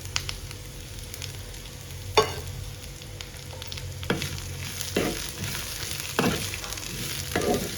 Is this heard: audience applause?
no